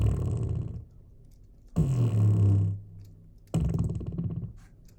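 Deep, rubbery liquid sub bass notes synthesized in Serum with EQ, three sustained tones with pauses between, the middle one loudest and wobbling, alone without talk.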